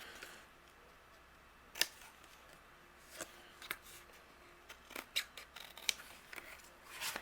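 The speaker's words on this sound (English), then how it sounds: "I'm just going to use my scissors and trim away those corners" Scissors trim the rounded corners off a photo card during cardmaking, giving sharp, isolated snips spaced irregularly over a faint quiet background, close and distinct.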